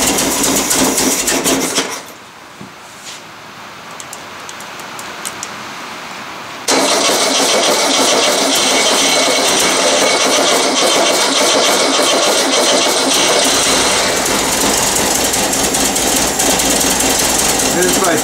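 An old Volkswagen engine cranks and fires on a cold start after sitting eight years, a loud rough rattling idle that dips briefly, then surges back and keeps running steadily.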